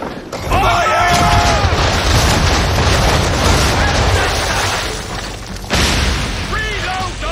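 Ship cannons fire a broadside in Assassin's Creed III, heavy booming blasts over a sustained roar of sea and battle noise, with a sharp renewed volley near the end and shouted voices.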